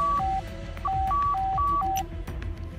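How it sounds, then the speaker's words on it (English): A satellite phone ringing in the video game Reverse Collapse, an electronic pattern of alternating high and low beeps repeating several times at steady volume over a low background hum. "Hold on, that's a satellite phone."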